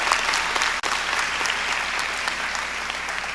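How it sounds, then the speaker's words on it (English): Audience applause at a university matriculation convocation, a full, sustained roar of many hands clapping across a large hall, steady and loud with a brief dropout near the start. "Please give her a rousing round of applause and a good Bulldog welcome."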